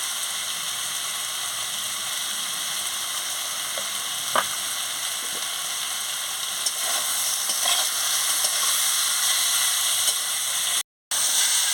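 Seeded banana slices fry in a pan, giving a steady sizzling hiss with a few faint scrapes from stirring, close and continuous, with no talking.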